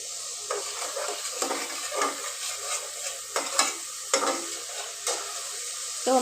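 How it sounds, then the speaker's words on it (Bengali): Spice paste fries in mustard oil for a fish curry with flat beans, producing a steady sizzle broken by regular spatula scrapes against the pan roughly once a second; close and moderately quiet, without speech. "তো আমি এখন মশলাটাকে ভালো করে ভেজে নিচ্ছি।"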